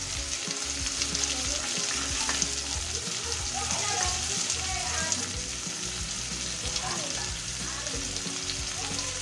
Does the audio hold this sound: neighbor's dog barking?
no